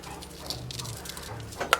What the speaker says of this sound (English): The dogs are constantly playing and Chunky's had enough of it and Joanie won